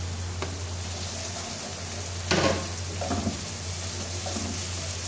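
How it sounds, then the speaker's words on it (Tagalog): Onions frying in oil in a pan for vegetable fried rice, a soft continuous sizzle with a few scraping stirs of a spatula, faint and steady, no voices. "Ilagay natin yung sibuyas."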